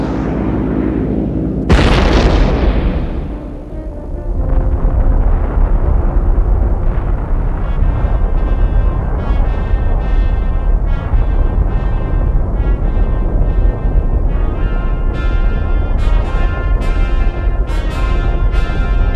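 Bomb dropped from an aircraft in a Nevada desert test bursts in a sudden heavy blast that roars on as a long, loud rumble, with scattered crackling debris and a sustained low roar continuing afterward.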